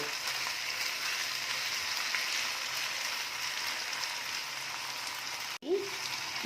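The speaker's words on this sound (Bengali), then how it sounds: "এটাকে এখন ভালো করে ভেজে নেব 1 মিনিট মতো" Ghugni ingredients frying over a high gas flame give a continuous moderate sizzle with faint stirring, then a brief sharp knock near the end, with no talking.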